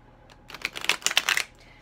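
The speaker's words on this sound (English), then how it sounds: "I'm shuffling this with my eyes closed." A Kuan Yin card deck being shuffled, a quick burst of papery riffling clicks lasting about a second, close and fairly quiet, with no talking.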